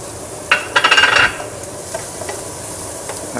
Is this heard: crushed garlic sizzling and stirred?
yes